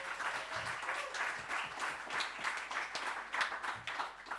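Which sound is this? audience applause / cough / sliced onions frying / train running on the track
audience applause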